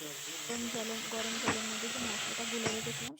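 Tomato, onion paste and turmeric frying with garlic in a pan for a Bengali katla fish kalia, a steady broadband sizzle with scraping stir strokes and a few louder clatters, with faint speech in the background.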